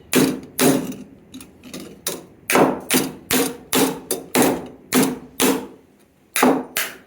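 Steady close hammering on stuck copper pieces for a copper rose, a dozen or so quick metallic whacks in an uneven rhythm with brief pauses, loud and alone.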